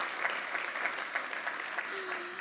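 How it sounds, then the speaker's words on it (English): A conference audience applauds, a steady sustained patter of clapping from a crowd heard at moderate distance; a voice speaks briefly near the end. "Can we give another round of applause for Dan?"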